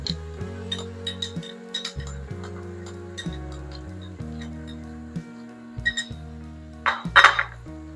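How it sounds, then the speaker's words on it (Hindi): Honey paste being stirred into chicken in a pan over very low heat, with light repeated clinks and taps of a utensil against the pan over a steady background hum. "इसे अच्छे से मिक्स करें।"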